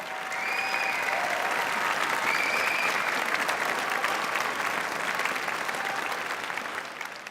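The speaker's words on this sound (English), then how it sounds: "let's give a final round of applause for all of the incredible students who were featured here this evening" Sustained audience applause fills an honors evening celebrating featured students, a steady dense clapping wash that holds loud and even for several seconds before tapering slightly at the end.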